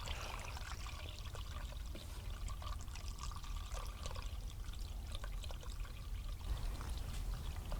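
A gallon of 25% antifreeze and 75% water mix is poured into the cooling system of a Chevelle with a 454 engine, a steady soft trickling flow, faint and close, with no voices.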